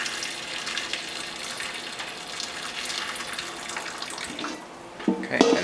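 Cold water running from a kitchen tap to refill a stock pot for chicken stock, a steady broadband rush for several seconds before it tapers off and a few brief clanks of the pot follow near the end.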